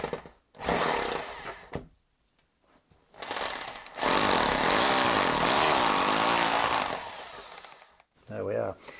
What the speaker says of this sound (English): And I only need to drill it as deep as a plug.